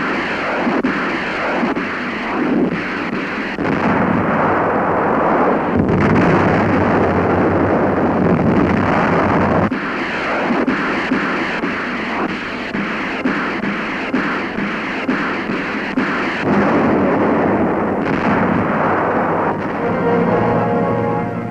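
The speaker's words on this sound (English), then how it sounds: "The city of Zweibruecken in the Saar is pounded by United States 7th Army weapons, including rocket-firing tanks." Artillery and rocket-firing tanks of the US 7th Army pound the WWII city of Zweibruecken in the Saar, heard as a continuous loud roar of rumbling blasts and booms with no talk.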